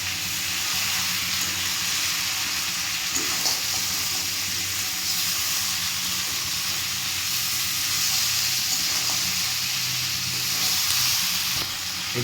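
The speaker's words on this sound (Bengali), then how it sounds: "এইগুলো দিয়ে ভালো করে মশলার সাথে মাখিয়ে নেওয়া হচ্ছে।" Lightly pre-fried potatoes for a Bengali Sundarbans-style crab curry fry with spices in a pan, producing a continuous close sizzle with faint scraping movements mixed in.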